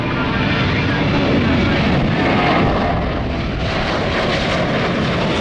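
A fixed-wing airliner departing an airport roars with a broad, loud and sustained engine rush that holds steady throughout, heard from the ground nearby.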